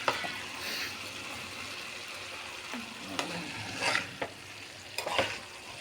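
Vegetable-only chop suey being stir-fried in a pan: a steady sizzle runs throughout, broken by scraping stirs and a few louder clanks of the utensil against the pan, close and without talk.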